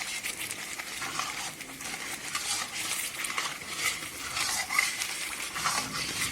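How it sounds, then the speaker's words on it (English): A white gravy mixture is stirred in a figure-eight motion in a pot, giving a steady scraping and swishing stir with a soft sizzle underneath, continuous and close. "The best way to mix the mixture is make an English 8 like this."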